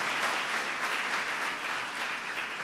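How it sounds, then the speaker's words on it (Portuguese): Church congregation applauding during a sermon, a fairly faint, even wash of many hands clapping heard from a distance, steady for a couple of seconds. "dá um aplauso bem forte em nome de Jesus"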